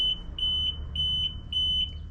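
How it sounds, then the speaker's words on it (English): A series of short, high electronic beeps from a Sea-Doo jet ski recognizing its key, in a steady rhythm, about seven evenly spaced chirps over a low background hum. "So it recognizes the key with 2 beeps."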